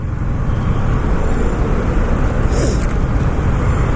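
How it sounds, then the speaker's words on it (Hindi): Busy morning road traffic in India rumbles as a loud, continuous, dense wash of engine and tyre noise, with vehicles passing close by. "यहाँ पर ट्रैफिक बहुत ज़्यादा है"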